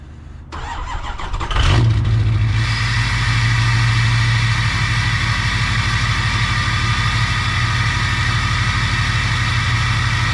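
An old van engine cranks and catches on a chilly day, then settles into a steady, loud idle with a low mid-pitched drone held close for the rest of the clip.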